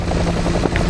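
A helicopter hovering in the DCS World flight simulator, a loud close steady rotor and engine drone with a continuous low hum, lasting only a moment.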